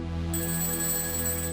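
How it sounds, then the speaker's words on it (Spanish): A telephone rings steadily and fairly loud on its own, a sustained electronic tone with no voices over it. "mientras a 600 kilómetros suena un teléfono"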